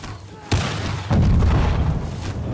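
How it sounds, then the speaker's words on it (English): Cannon fire loading grapeshot in the castle-siege video game Conqueror's Blade: two loud, close booms about half a second apart, each a sharp broadband blast followed by a rumbling, sustained roar of shot and impacts. "So we're firing grape shot at these guys in the middle that are holding the point."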